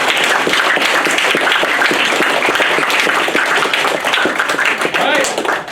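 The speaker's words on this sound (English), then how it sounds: "Please give a big round of applause to Jim." School audience applauding a student radio-play performer at a morning show, loud steady clapping filling the whole stretch with a few voices mixed in, easing slightly near the end.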